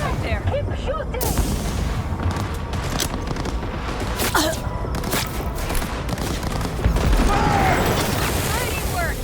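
Rapid gunfire and booming blasts in a Cyberpunk 2077 firefight, dense overlapping shots and impacts across the whole stretch, with shouted voices mixed into the chaos.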